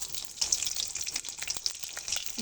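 Green chilies hit hot mustard oil in a kadai and sizzle with a bright, crackling hiss that spits continuously through the short burst, close and fairly loud.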